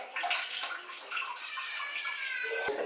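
Water splashing and trickling as a wet cloth diaper is wrung out by hand, a steady close broadband gush with brief drips, no talking over it.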